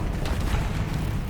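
Confringo blasting spell in the Hogwarts Legacy video game, a continuous rumbling, booming explosion held close and loud throughout.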